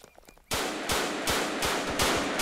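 Rapid rhythmic gunfire in Running With Rifles, roughly seven loud reports in steady succession after a quiet opening, close and dominant with no talk over it.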